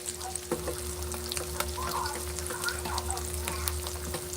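Eggs frying in a pan, a steady soft sizzle with scattered crackles and pops, heard from close by under a low constant hum.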